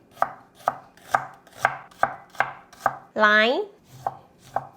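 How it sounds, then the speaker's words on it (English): A knife chops scallion on a cutting board, about ten crisp, evenly spaced close chops in a steady rhythm, with a brief spoken word in the middle and no other sound. "Scallion, we just chop it up."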